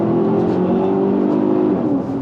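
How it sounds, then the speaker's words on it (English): A high-mileage Maserati engine revving up while driving, a loud, sustained close engine drone that climbs steadily in pitch as the revs rise, with no talking. "You sort of chase the revs up and it gets faster as you go."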